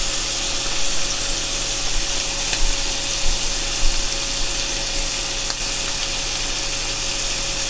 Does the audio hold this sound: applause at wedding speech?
no